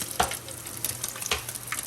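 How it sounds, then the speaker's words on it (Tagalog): Steady crackling sizzle of tambang fish frying in hot oil, with a few sharper pops and spatters over the continuous hiss. "nagpiprito ng tambang"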